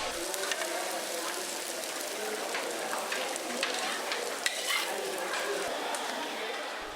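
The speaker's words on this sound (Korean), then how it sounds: "동시다발적으로 붙여지는 수십 장의 반새우들." Dozens of bánh xèo, Vietnamese rice-batter pancakes, fry at once in a temple kitchen, giving a dense, loud, steady sizzle with faint crackles throughout.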